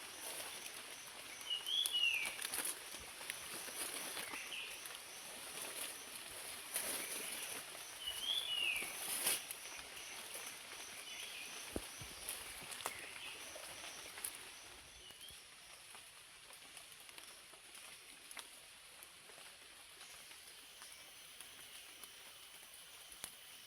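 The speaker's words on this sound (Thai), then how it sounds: "เสียงนกเสียงนูทุกคนเลย" Bird calls in a forest during morning rain, occasional short chirps and whistles at a moderate distance over a soft, continuous patter of rainfall.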